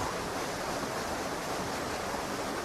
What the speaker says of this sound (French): on a bien la cascade qui coule ici